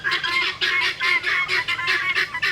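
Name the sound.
turkeys and other farm birds calling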